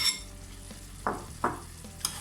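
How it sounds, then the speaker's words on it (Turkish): Soft sizzling as fried eggplant is stirred into tomato sauce in a pan, with a few brief scraping strokes of a utensil, spaced about half a second apart, close and quiet. "Ve sosumu çekmesi için bir miktar karıştıracağım."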